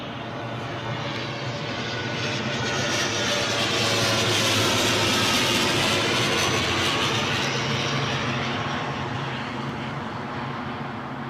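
An ATR 42-500 turboprop arriving from Dundee lands at London Heathrow airport, its engine roar swelling loud and broad as it passes close, then easing slightly while continuing steadily.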